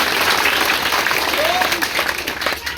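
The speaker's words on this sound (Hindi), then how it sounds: "एक ताली होनी चाहिए।" Dense audience applause at an educational event among children, loud and continuous throughout, with faint voices mixed into the crowd noise.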